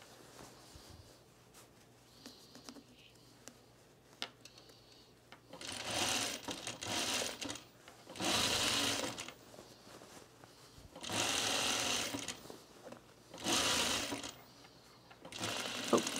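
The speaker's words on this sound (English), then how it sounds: "Maybe it's just sewing on quilting cotton today." Sewing machine stitching quilting cotton, running in several bursts of steady whirring a second or two long with quiet pauses between, fairly close and alone.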